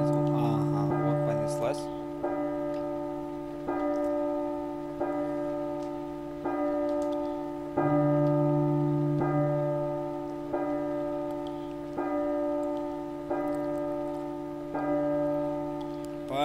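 A deep church bell in the video game P.T. tolls steadily, about one strike every one to two seconds, each ring hanging and humming before the next.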